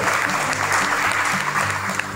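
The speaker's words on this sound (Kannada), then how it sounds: "ಮತ್ತೊಮ್ಮೆ ಅವರಿಗೆ ಜೋರಾದ ಚಪ್ಪಾಳೆ" Sustained audience clapping at a Kannada Rajyotsava celebration in Santosh Nagar, Hubballi, steady and dense throughout with a faint murmur of voices underneath.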